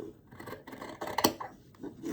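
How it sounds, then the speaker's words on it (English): Scissors snip and rasp through fabric in a few close, uneven cuts, with a sharper crunch in the middle. "So you're going to use your fabric scissors"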